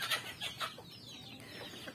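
Chickens clucking in short, faint bursts, several quick calls close together with a quiet background.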